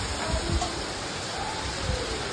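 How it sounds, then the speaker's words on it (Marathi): Steady rain hiss fills the clip, a soft continuous patter with no breaks, fairly quiet and even throughout. "पाऊस काय जायचं नाव घेतच नाही."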